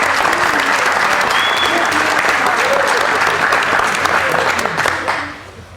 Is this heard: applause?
yes